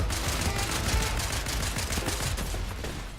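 Rapid video-game gunfire in a continuous dense burst of shots, loud and close, running the whole time with no speech over it.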